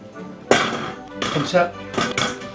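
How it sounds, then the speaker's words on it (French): A knife cuts purple cauliflower florets into bite-sized pieces on a board, giving a few sharp close knocks and crunches with clatter between them, under a person talking. "on commence par le mauve, donc couteau mauve, et on va les couper en petites bouchées"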